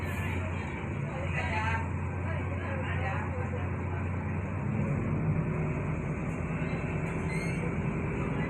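A Trans Semanggi city bus pulls away with a low engine drone and road rumble, heard fairly close under ongoing talk.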